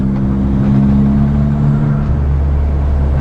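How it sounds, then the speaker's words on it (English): Ford Fiesta ST with a custom track tune and race differential, its engine droning loudly and steadily from up close with a low rumbling hum and harmonic whine, no talking. "It sounds like I've got engine knock and the drive shafts are going to pop out when I'm turning."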